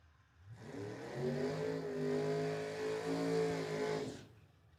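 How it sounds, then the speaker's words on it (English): A Chevy Impala drag racing down the strip at a dragway, its engine note rising as the revs climb, loud and steady for about four seconds before cutting off. "over in the right lane going against the Chevy Impala. Both of them off to the races."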